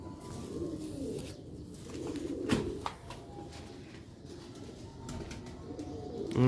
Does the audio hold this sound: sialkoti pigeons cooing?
yes